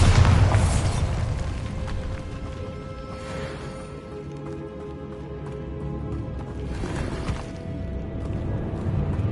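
A Bombarda blasting-spell explosion in the video game Hogwarts Legacy, a heavy booming blast at the start that rumbles and decays, with a second softer burst later.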